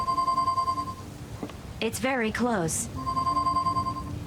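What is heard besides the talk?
phone ringing in Leisure Suit Larry video game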